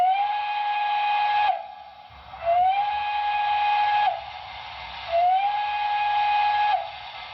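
A model train steam whistle, from an HO scale Broadway Limited PRR I1sa locomotive with Paragon 3 sound, blows three times in long sustained blasts, each starting with a rising pitch and cutting off sharply, with quiet pauses between.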